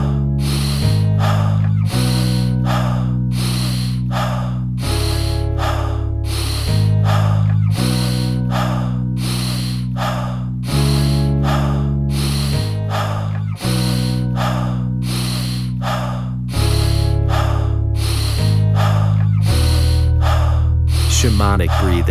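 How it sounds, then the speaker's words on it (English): Rapid, rhythmic shamanic breathing in a breathwork session: quick breath bursts pulse steadily and loudly over sustained background music chords, with no pause in the pattern. "Shamanic breathing."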